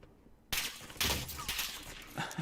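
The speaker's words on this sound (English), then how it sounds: "I don't think that shot hit them." Gunfire from a shooter video game, with a sharp shot at about half a second and another loud burst around one second, followed by sustained noisy crackling and a final burst near the end, heard with no talking.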